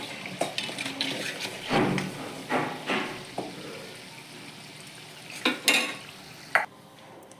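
Sesame pitha fry in hot oil with a soft sizzle, broken by repeated scraping stirs and clinks of a utensil against the pan, close and moderately loud, with no one speaking.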